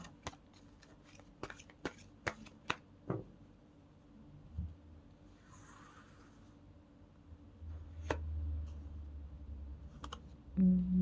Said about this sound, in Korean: 한번 추가 카드를 뽑아 보도록 할게요